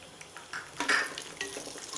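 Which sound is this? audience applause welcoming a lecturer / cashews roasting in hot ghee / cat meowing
cashews roasting in hot ghee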